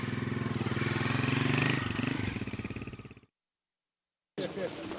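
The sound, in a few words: motorcycle passing by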